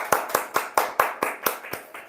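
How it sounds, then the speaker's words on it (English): Audience at a spring semester student speech event claps for the speakers, about nine evenly spaced, crisp claps that sound like a small group clapping in unison. "So let's just clap our hands one more time for all the amazing speakers."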